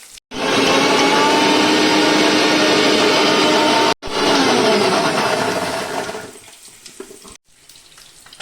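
Loud, steady whirring of a mixer grinder grinding onion, garlic, ginger and green chili with a little water for several seconds, briefly stopping, then winding down to quiet clinks.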